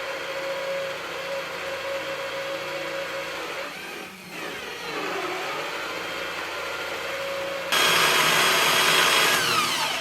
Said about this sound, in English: I'll drill most of the waste out